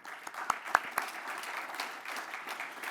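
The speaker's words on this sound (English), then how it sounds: "Please give them a round of applause." Applause from a conference audience at a healthcare AI forum, a sparse, fairly quiet patter of clapping with a few sharp individual claps early on, continuing steadily throughout.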